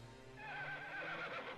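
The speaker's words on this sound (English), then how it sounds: "At Watson's touch, the horse snorted once and calmly lowered his head." A horse whinnies in the video game London Detective Mysteria, a single drawn-out neigh with wavering pitch rising over a low steady hum, fairly close and moderately loud, with no talking.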